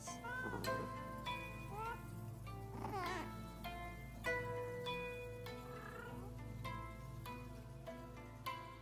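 Cats in a video game meow in several short, separate calls, some rising and bending, scattered over soft game music and background tones at low level.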